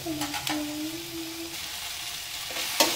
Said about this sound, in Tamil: இது கொஞ்சம் வதங்கட்டும்.